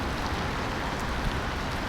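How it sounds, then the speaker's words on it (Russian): Rain beginning to fall outdoors in Kaliningrad, a steady hissing patter of drops on surfaces, even and fairly loud with no talk. "Блин, дождь начался."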